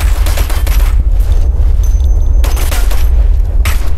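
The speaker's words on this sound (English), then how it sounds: "Taking fire over here!" Gunfire in the military shooter game Operation Flashpoint: Red River, loud, dense bursts of rapid shots and booms over a heavy low rumble, with short gaps between volleys.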